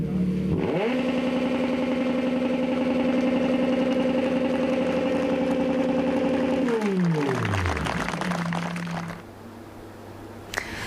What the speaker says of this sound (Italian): l'ultimo saluto è stato lasciato al motore, nella sua ringhiosa, lunghissima sgasata